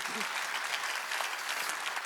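A church congregation at a Korean midweek worship service claps together in a dense, sustained burst of applause, filling the room evenly for a couple of seconds.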